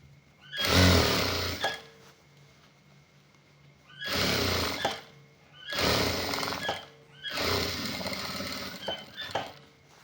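A sewing machine runs a second line of stitching along a half-sleeve, three-button shirt, in four separate bursts of whirring with short quiet pauses between them, close and steady.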